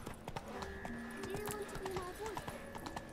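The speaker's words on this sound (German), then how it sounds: "Ich denke, wir brauchen ein Pferd." Hooves clip-clop on the ground as a horse is called over in The Witcher 3: Wild Hunt, a quick series of faint thuds heard under someone speaking German and game music.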